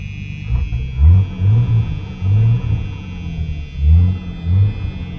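A 1978 Chevrolet Nova V8 hot rod idles just after starting, a deep lumpy rumble with rhythmic low surges and several throttle blips, close by with no talking.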